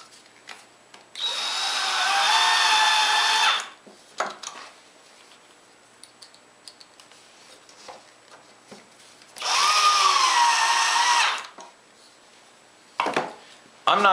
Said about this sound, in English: Then we want to go ahead and drive these screws and work our way around